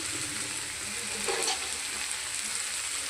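Lentil dumplings (bori) and slit green chillies sizzling in a pan, a steady close hiss of frying with a brief surge partway through, no voices.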